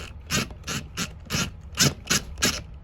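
A flywheel puller being tightened on a Craftsman mower: rapid ratcheting clicks in seven short bursts at a steady rhythm, close up, each burst a dense run of metallic ticks.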